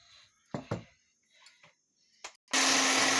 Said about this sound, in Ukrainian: Жовточки збиваємо, поки розчиниться цукор